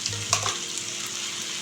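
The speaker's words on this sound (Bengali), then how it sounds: "রসুন পেস্টটাকে আমি 1 মিনিটের মতো একটু কষিয়ে নিচ্ছি পেঁয়াজের সঙ্গে" Garlic paste sautés with onions in a pan, a brief soft sizzle with a quick stir or scrape near the start, heard alone.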